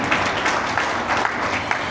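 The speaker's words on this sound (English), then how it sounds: "Big round of applause for him." Audience applause for a tennis legend at a Rotary Club evening: dense, fairly loud clapping from a seated crowd, continuous for the full two seconds.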